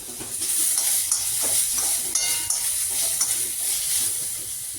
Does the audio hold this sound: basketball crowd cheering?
no